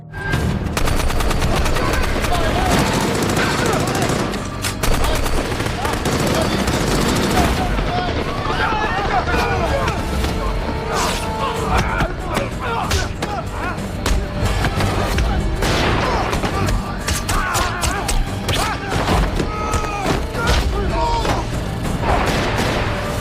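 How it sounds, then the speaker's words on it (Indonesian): A film battle scene with dense gunfire and fighting fills the whole stretch, loud and continuous, with rapid bursts layered over booming combat noise and no break. "Wolf dan Mate juga berhasil menemukan 4 musuh yang langsung saja mereka ajak baku tembak dan juga baku hantam"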